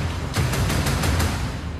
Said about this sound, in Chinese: 军开枪射击